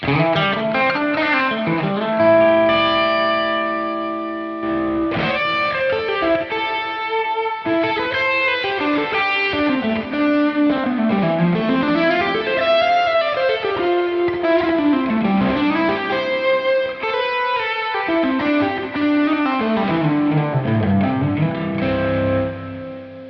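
Electric guitar through multi-tap delay plugins, notes cascading and echoing into one another for a wide, sustained wash of sound, loud and continuous without talk.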